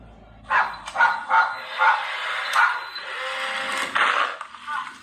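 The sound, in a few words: dog barking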